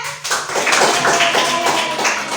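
A school class claps together during a lesson, a brief burst of quick, loud, closely spaced hand claps from several pupils in the room.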